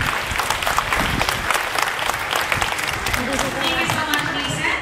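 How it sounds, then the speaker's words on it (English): An audience claps enthusiastically in a dense, steady burst of applause that stays loud throughout. "So guys, how about a big round of applause for Simba and of course, Officer Christine."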